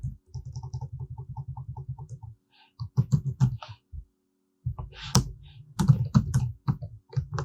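Fingers typing CSS code on a computer keyboard during a web development lesson, with clusters of quick, close key clicks separated by short pauses.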